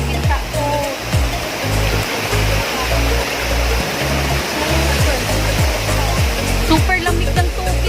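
Tagbibinta Falls in Maragusan, Davao de Oro, roars close and loud as a constant rushing waterfall, a broad, unbroken wash of falling water that holds steady throughout.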